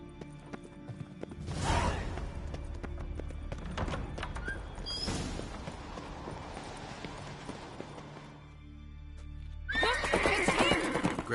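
Horses in a Witcher video game neigh and whinny twice with clip-clop hooves in between, the second whinny loudest near the end, all over steady game ambience with no talking.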